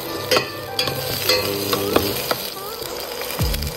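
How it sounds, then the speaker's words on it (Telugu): Onion frying in a pan with cumin, mustard seeds and urad dal: a close sizzle with quick scraping strokes of a spoon at a steady pace, with no voices. "కొంచెం ఫ్రై చేసుకోవాలి ఉల్లిపాయ వేగేంత వరకు"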